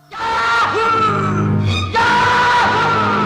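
A man bellows a long, full-lunged "Yahoo" yell in a Hindi film song recording, a loud sustained shout that breaks off briefly and surges again over the music.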